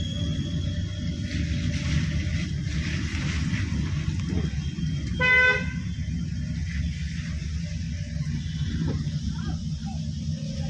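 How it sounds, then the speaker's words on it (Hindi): A car horn gives a short honk from a car driving in rain, standing out briefly over steady road and engine noise near the middle. "बाइक को हॉर्न देते हुए"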